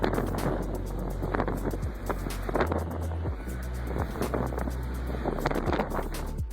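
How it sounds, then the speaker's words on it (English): Strong wind roars steadily across the microphone in a continuous broadband rush with gusty buffeting, near and loud, during a storm that shoves a 230,000-ton ship; no talk. "Look at that damn wind, cuz."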